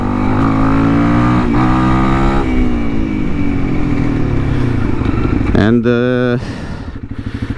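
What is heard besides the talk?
Honda CRF 300L motorcycle riding with tuned ECU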